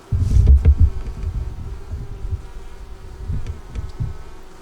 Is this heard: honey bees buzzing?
yes